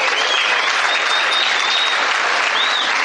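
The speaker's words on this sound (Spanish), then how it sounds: "Un aplauso, muchachos." Audience applause at a talk, dense continuous clapping from a crowd, loud and close, with a few faint voices mixed in.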